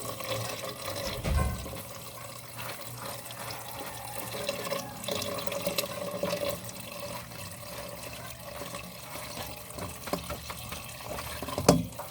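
Tap water runs steadily while kangkong leaves are washed in a basin in a home kitchen, a continuous splashing wash with a few louder splashes and knocks near the start and end.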